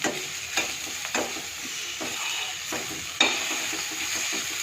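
Ginger, green and red chillies, curry leaves and beetroot sautéing in oil in a pan, a soft continuous sizzle broken by several sharp scraping stirs at irregular intervals.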